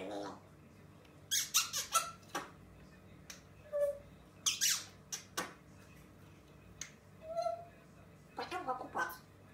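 An African grey parrot lets out a series of sharp, close squawks and squeaky chirps in irregular bursts, with a couple of soft whistled tones between them over a quiet room background.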